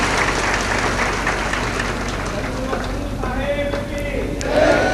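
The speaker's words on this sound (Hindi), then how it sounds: "धन्यवाद, ताली बजाओ।" Audience applause at a live bhajan and spiritual discourse during the Ujjain Kumbh, a steady broadband clapping wash that fills the whole stretch, with a voice and faint tonal music briefly audible under it.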